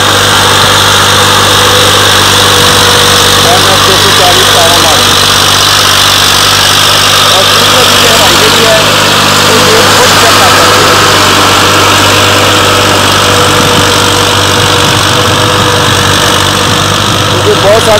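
A Massey Ferguson MF 240 tractor pulls a 7-tine chisel plough, its diesel engine droning loud and steady up close with constant vibration throughout.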